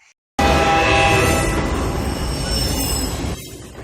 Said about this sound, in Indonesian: keduanya pun melanjutkan perjalanannya menggunakan sebuah kereta